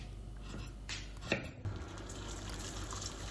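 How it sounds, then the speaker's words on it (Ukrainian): Boiling water poured over freshly peeled and chopped potatoes, carrots and onions in a soup pot, a soft liquid gush with a couple of brief splashes and clinks, close and fairly quiet. "Я заливаю відразу окропом."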